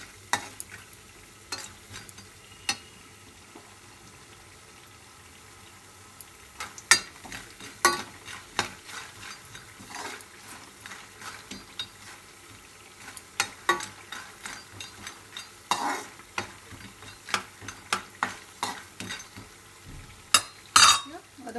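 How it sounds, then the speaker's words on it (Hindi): Adauri lentil dumplings fry in a pan with a steady low sizzle, while a utensil repeatedly clinks and scrapes against the pan. "अदौड़ी के बढ़िया से भूज लैके छै, लाल जहन भऽ जेतै अदौड़ी तखन तक हमरा एकरा भूजैके छै।"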